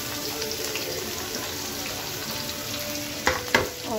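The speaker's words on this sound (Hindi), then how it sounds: "ये मैंने तेल रखा, तेल में जीरा डाला, और मैं अभी सारी प्याज इसमें गिरा दूँगी," Cumin sizzles steadily in hot oil in a pan as onions go in, a continuous close crackling hiss with a couple of sharp clinks near the end and no voices.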